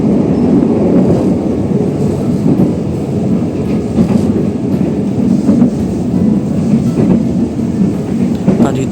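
A passenger train running as an added service, its steady low rumble and rolling rail noise continuous and close throughout, with faint rhythmic clatter beneath.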